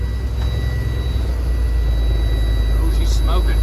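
A Ford L9000 truck's engine runs steadily just after starting, a loud, constant low rumble with a whir on top, and people talk over it.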